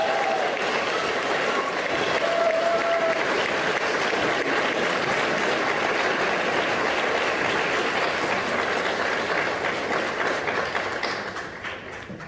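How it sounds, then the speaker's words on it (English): A final round of applause for JROTC cadets at an awards ceremony: sustained crowd clapping fills the hall, steady and fairly loud throughout before tapering off at the end. "A final round of applause for our Corps of Cadets for a job well done."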